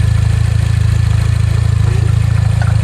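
A modified classic Mini engine idling with the recirculation valve disconnected, a steady close low rumble with a faint mechanical rattle running through it, no voices.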